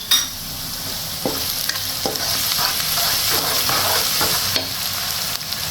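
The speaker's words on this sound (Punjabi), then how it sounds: "ਇਹਨੂੰ ਥੋੜਾ ਜਿਹਾ ਬਟਰ ਵਿੱਚ ਆਪਾਂ 2 ਤੋਂ 3 ਮਿੰਟ ਇਸੇ ਤਰ੍ਹਾਂ ਲੋ ਫਲੇਮ ਤੇ ਸੇਕ ਲਗਾ ਲੈਣਾ ਹੈ" Vegetables for a potato sabzi sizzle in butter over a low flame, a steady crackling hiss with occasional soft scrapes of a spoon stirring the pan, close by and with no talking.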